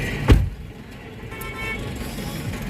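A car engine idles steadily in a low rumble, with a brief louder thump near the start and no voices.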